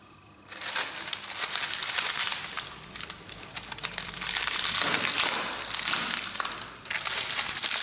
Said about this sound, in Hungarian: Lehet hallani, hogy a súlyom alatt törnek össze az üvegcserepek